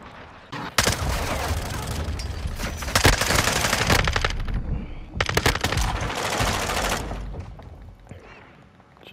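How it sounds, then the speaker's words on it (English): Sustained bursts of automatic fire from the FSS Hurricane submachine gun in Modern Warfare II, loud and close, with rapid rattling volleys broken by brief pauses. "This gun is really good."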